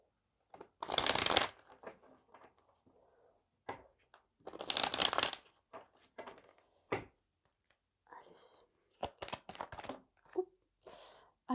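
Oracle cards being shuffled for a tarot reading, several bursts of loud close riffling and flicking cards separated by quieter handling, with someone speaking between them.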